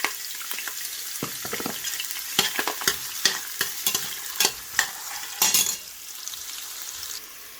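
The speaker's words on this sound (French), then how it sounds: "Et je fais revenir les oignons." Onions browning in a pot for a Senegalese kandia soup, a steady frying hiss broken by a series of sharp scraping stir strokes that cluster and then fade away near the end, close, with no voices.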